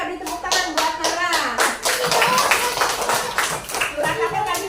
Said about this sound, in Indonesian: Ya, kita beri tepuk tangan buat Nara.